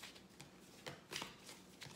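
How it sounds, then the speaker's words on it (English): A deck of tarot cards is shuffled softly and close by, giving a quiet, continuous riffling with a few brighter flicks, with no voices. "I'll continue shuffling question into the cards."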